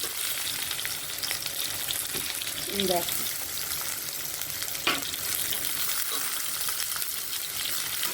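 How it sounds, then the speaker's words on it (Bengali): Eggplant with green chilli and onion fries in a pan, giving a continuous close sizzling crackle with occasional stirring clinks, while a voice speaks briefly over it. "বেগুন, কাঁচা লঙ্কা আর হলো পেঁয়াজ দিয়ে একটু ভাজা ভাজা টাইপের করবো"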